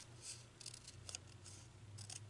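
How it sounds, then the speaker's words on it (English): Scissors snip along a score line in card while making a folded pillow box, giving a few short, faint crisp cuts close by over a low steady background hum. "I'm just going to cut along this score line here with my scissors"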